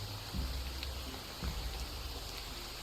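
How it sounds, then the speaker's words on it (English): Rain falling over a swampy bog in a video game, a soft steady patter with a low watery rumble and a couple of faint thuds, quiet and continuous. "Oh no, we're caught in the bog and it's raining."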